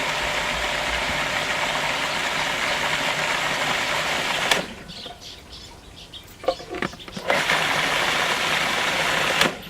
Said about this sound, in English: this is one of those things you kind of need a food processor for